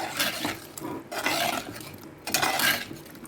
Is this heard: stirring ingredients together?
yes